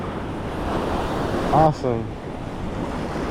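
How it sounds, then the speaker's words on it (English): Wind and choppy water at a fishing jetty in Corpus Christi, Texas, in rough conditions: a steady, loud surf-and-wind roar runs throughout, with wind buffeting the microphone and a brief voice in the middle. "It's a bit windy, a bit choppy out there"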